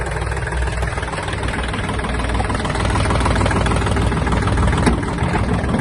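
A Kubota L1-185 Japanese mini tractor engine idles steadily, a continuous low rumbling chug close by with no voices, holding an even level throughout.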